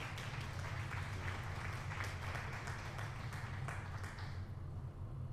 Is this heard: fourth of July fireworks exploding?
no